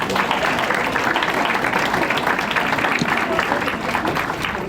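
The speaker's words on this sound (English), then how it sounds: "can we give another round of applause to our elected officials?" An audience at Chester City's Inaugural People's Ball applauds its elected officials, a dense, even patter of many hands held at a moderate level throughout.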